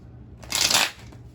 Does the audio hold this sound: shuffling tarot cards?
yes